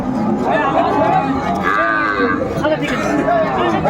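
Dairy cows and calves at a busy rural cattle market, Ambari haat in Dinajpur. They give loud, drawn-out moos close by, with more lowing overlapping against a background of crowd murmur.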